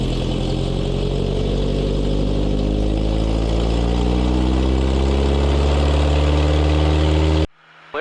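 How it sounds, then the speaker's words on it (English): A Cessna Cardinal RG's aircraft engine runs steadily on the runway, a loud, sustained low drone with rising harmonic tones as the power builds, cutting off abruptly near the end. "Now, when you give it throttle, there's torque to the engine, so you got to push the right rudder pedal in"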